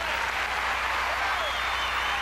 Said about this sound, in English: Baitova, an appreciative audience here, applauding that performance at Dandy.